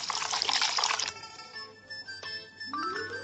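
Milk poured into a bowl of sugar and oil for mooncake dough, a short close liquid splash and trickle that tapers off into faint drips and clinks.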